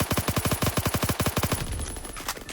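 Heavy rapid automatic gunfire from an online first-person shooter, Roblox Phantom Forces, in a zombie war mode: a loud, fast, even burst of about fifteen shots that stops abruptly and leaves a lingering tail.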